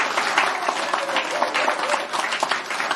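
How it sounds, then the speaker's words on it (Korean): An audience gives a guest steady, crowded applause, many hands clapping together at an even level, with faint voices mixed in. "박수 보내주십시오."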